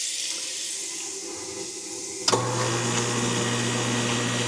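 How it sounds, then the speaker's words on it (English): A kitchen sink garbage disposal starts up with running water: the faucet flows quietly at first, then a sudden clunk launches a loud, steady motor hum mixed with splashing water, close by. "There is the garbage disposal operated through here. So let's run some water and see how that sounds."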